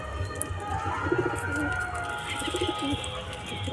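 A captured pigeon kept at home gives two soft, low coos near the microphone, over a background hum.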